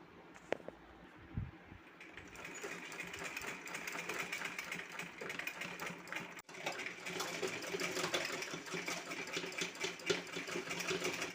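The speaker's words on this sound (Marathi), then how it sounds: "आता आपल्याला गोट मारून घ्यायचा आहे" A sewing machine runs steadily as it stitches a seam on a bag made from a reused old shopping bag. It makes a close, continuous mechanical whirr with a rapid needle rhythm for the whole stretch after a brief start.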